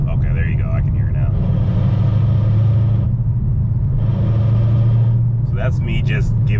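A car's transmission gives off a steady low drone and rumble as throttle is applied on a test drive, swelling and easing in two broad surges under continuous engine noise, with a voice talking over parts of it.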